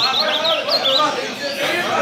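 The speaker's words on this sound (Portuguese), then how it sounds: "Olha os coleiros aqui, ó. Olha os passarinhos pendurados." Caged coleiro (double-collared seedeater) songbirds at a coleiro and papa-capim songbird tournament chirp and whistle in quick bright phrases, close and fairly loud, with background crowd noise.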